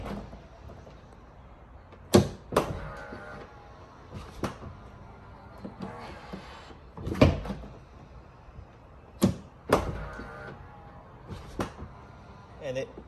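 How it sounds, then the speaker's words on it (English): A Tesla Model Y door fitted with a Hensho soft-close kit shutting, heard as several soft thuds and clicks spread over quiet stretches, fairly close, with no talk. "And it also sounds much smoother and more elegant when you close the door fully."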